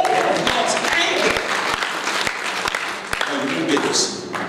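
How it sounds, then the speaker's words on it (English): A church congregation at a revival service claps together in a dense, sustained burst of applause, with a preacher's voice talking over the clapping throughout. "We're clapping"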